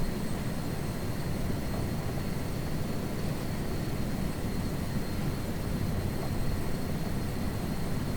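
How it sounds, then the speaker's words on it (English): Helicopter engine and rotor noise in Microsoft Flight Simulator 2024 forms a steady, unbroken low rumble with a broad windy hiss, loud and even throughout with no talking. "I can hear wind. It's probably the helicopter."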